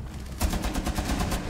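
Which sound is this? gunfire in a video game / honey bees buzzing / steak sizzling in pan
gunfire in a video game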